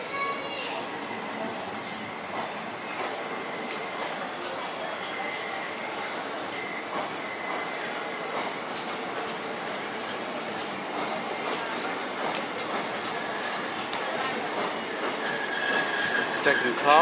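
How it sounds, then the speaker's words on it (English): A long double-decker passenger train rolls past steadily at Navsari, India, a continuous rumble with metallic squeals and rattling carriages, holding at a constant level for many seconds. "Fair old long trains these are."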